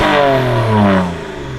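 A BMW 335i with the perforated exhaust pipe cut out and secondary catalytic converters deleted revs loudly up close, its deep droning exhaust note rising and then falling back toward idle.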